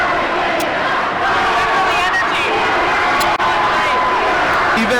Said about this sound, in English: Once in a while, you just got to step back and listen to your kids cheer like this.